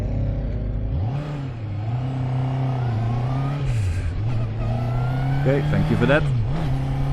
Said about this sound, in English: already I can tell with the high revs coming out of this exhaust